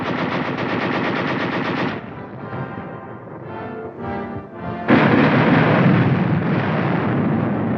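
US Army tanks fire during the Korean War, loud rapid machine-gun bursts and heavy booming shots, pausing briefly before another sustained burst of gunfire.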